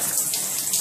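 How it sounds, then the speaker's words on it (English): Shower water runs in a steady, loud rushing spray with slight surges and no talk over it. "So what I'm going to do is I'm going to turn the water on"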